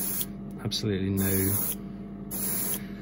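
A spray can of matte black undercoat, a rattle can used for priming miniatures, hisses in short bursts, loud and close, with a person speaking briefly over it.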